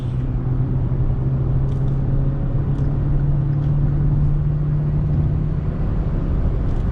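A 2020 Hyundai i20 premium hatchback accelerates through its gears, heard from inside as a steady, loud engine drone whose pitch climbs slightly, with no talking.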